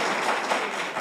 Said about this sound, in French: Mesdames et messieurs, applaudissez Darlenska.